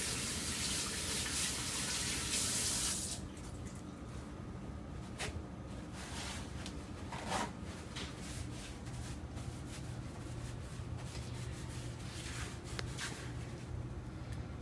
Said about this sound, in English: Go ahead and wash my hands.